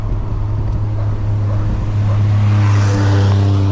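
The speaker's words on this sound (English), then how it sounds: "I got a car coming. He's fast." A fast car passes close by, its engine loud and rising to a roaring drone that swells toward the end.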